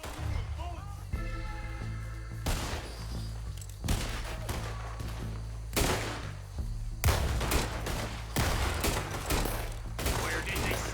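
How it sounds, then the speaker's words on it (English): Gunfire in Red Dead Redemption 2 during a shootout with Lemoyne Raiders: repeated loud rifle and pistol shots in bursts and single cracks, over a low music bed with shouted voices between volleys. "I'll riddle you with bullets!"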